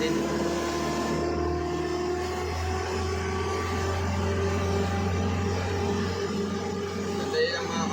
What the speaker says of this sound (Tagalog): Maingay yung sasakyan.